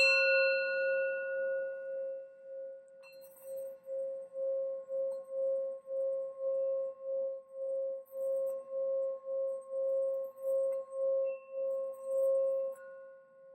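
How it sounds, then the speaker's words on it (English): A singing bowl rings with a pure sustained tone, pulsing in a steady wobble as it is rubbed around the rim, soft and close. "I'll bring the sound bowl for this."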